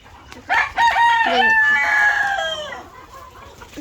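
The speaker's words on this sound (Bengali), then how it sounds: "এখন বেশি মুরগি খাচ্ছে, কড়াই থেকে খাচ্ছে।" Chickens on a farm feed from a pan, loud close clucking and squawking calls crowding together in a continuous burst before tapering off.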